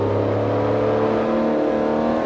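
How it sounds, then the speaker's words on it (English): A 1959 BMW 507 in Forza Motorsport 4 revs hard, a loud, close engine note with layered harmonics climbing steadily throughout the short burst. "the 1959 BMW 507 from the Forza Motorsport 4"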